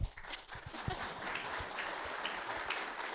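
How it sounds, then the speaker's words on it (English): Audience at an AI group's general meeting applauding as a speaker is invited to the stage, a fairly faint, even wash of clapping throughout. "Clap."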